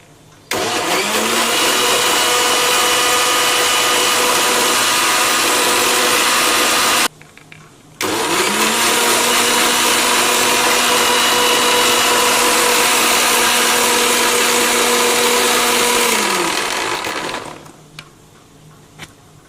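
A kitchen blender whirs loudly and steadily while mixing homemade lassi with water, running for about seven seconds, stopping briefly, then running again for about eight seconds before winding down.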